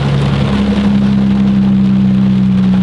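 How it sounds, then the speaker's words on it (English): A car engine idles in heavy rain, a loud, close, steady low hum under a dense wash of rain on the car, continuous for a few seconds with no talk. "As soon as I turned the car on, it started raining heavier"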